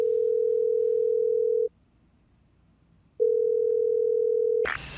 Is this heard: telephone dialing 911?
yes